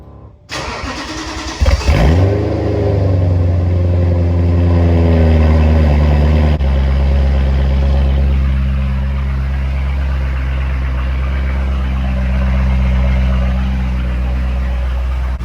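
A BMW E90 M3 cold-starts with a brief starter crank, then the engine catches and flares to a loud high idle that holds steady and close, a deep continuous drone with no one talking.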